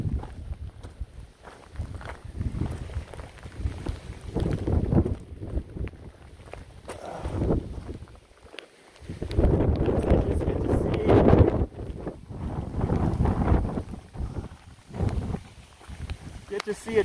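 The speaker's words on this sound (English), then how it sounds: "Listen to that wind." Strong wind buffets the microphone on an open Appalachian Trail ridge in the Grayson Highlands, a loud, continuous roar that surges and eases in gusts, with faint rustle from walking mixed in.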